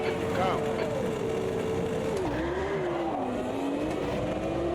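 A classic Formula One car in the sim racing game Automobilista 2, on a wet track, drones steadily with its engine note wavering up and down as it struggles to accelerate under a constant roar of tire and wind noise.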